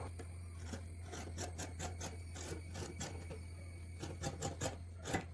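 Scissors cut through fabric for a pleated nighty in a run of quiet, rhythmic snips and rustles, close up and soft, without talk.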